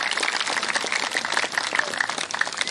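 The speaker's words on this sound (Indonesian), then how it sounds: "Boleh tepuk tangan buat beliau." A dense, steady wash of clapping from a gathered audience at the Pondok Pesantren Ihya Ulumuddin Nur Sufiyah welcomes Habib Abdullah bin Muhsin Barakuan, who has come from East Java. It carries on without a break for the whole stretch, with no talking over it.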